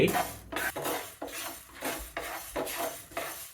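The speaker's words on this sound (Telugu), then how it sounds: "ఒకటిన్నర టీ స్పూన్లు మెంతులు వేసాను ఇవి కొంచెం గోల్డెన్ బ్రౌన్ వచ్చే వరకు వేయించుకుందాం" Fenugreek seeds are roasted and stirred in a pan on a stovetop, heard as soft, rhythmic scraping and rattling strokes about every half second. The sound is close but fairly faint, with no voices.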